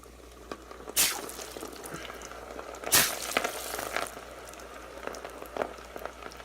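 Raw potatoes dropped into a pan of hot frying oil, setting off two sharp bursts of spitting and crackling followed by a steady low bubbling sizzle.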